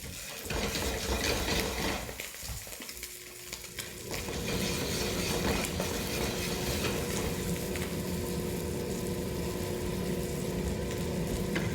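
A thyme reduction for beurre blanc simmering in a pan, giving a continuous loud bubbling sizzle that settles into an even steady hiss after a brief lull near the start.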